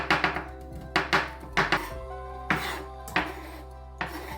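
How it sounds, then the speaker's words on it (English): A kitchen knife crushes and slices a garlic clove on a cutting board, giving a series of sharp, close chopping knocks in irregular pairs and singles with quiet gaps between. "Now you're going to take one garlic clove and crush it with a knife."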